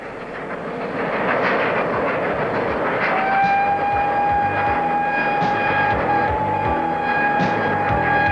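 A steam locomotive, Pendennis Castle, hauls a train steadily past with rhythmic clattering of wheels on rails, and a sustained whistle sounds partway through, loud and close.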